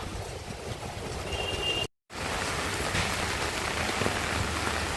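Steady rain pours down in Konni, Kerala, a dense even hiss that drops out briefly for a moment before resuming just as strongly.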